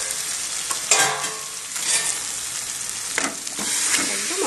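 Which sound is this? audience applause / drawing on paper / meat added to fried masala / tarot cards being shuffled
meat added to fried masala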